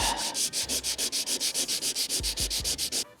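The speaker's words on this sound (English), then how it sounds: "I'm just going to key that area up with a bit of 80 grit now" 80 grit sandpaper scuffs back and forth over a filled area of an RB200, keying the surface with about fifteen quick, rhythmic rasping strokes close up, then stopping.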